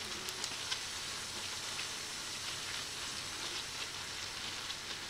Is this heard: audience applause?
no